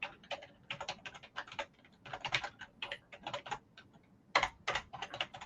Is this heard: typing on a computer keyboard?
yes